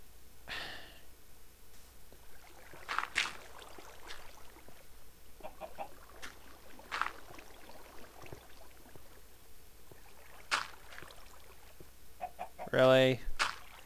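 A video-game chicken gives scattered, sparse clucks at moderate distance over a quiet ambient bed, ending with a louder, drawn-out squawk near the close.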